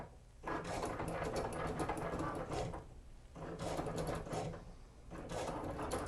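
A Cricut cutting machine slices vinyl in quick mechanical bursts, its whirring carriage rising and pausing in a repeating rhythm, fairly faint and close, with no voices.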